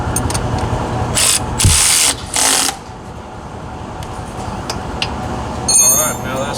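A ratchet wrench tightens the center bolt on an aftermarket exhaust being installed on a CFMOTO UFORCE 1000, with short bursts of rapid clicking close by, separated by pauses and light handling noise.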